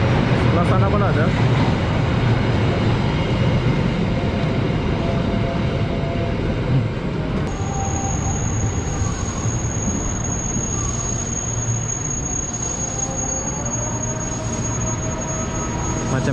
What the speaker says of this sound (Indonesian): Oh, panjang kereta api ini.